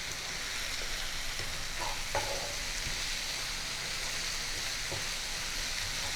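Onion, ginger, garlic, tomato and green chilli fry in a pan for spicy brinjal bhurji, a steady close sizzle with faint stirring scrapes throughout and no talk.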